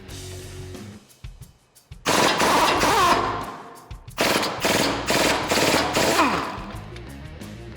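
A pneumatic impact gun with a 17 mm socket hammers off the sway bar end link nut on a 2005-2021 Toyota Tacoma, giving loud, close rattling bursts: one two-second run, a short pause, then a longer pulsing burst with no talking.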